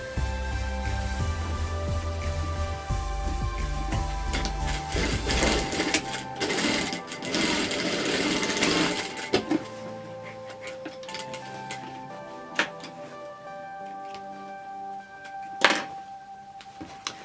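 Sewing machine stitching the corner seam of a fabric tote bag, a steady loud run of stitching for several seconds, then stopping and followed by a few sharp thunks and light handling clicks.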